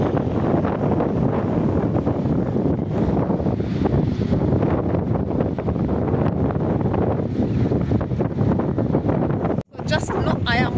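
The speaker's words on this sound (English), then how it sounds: "I hope we are communicating because the wind is too much." Strong wind roars across a microphone on an African coastline with waves, a loud continuous buffeting rush with a person speaking underneath, then a sudden brief dropout near the end.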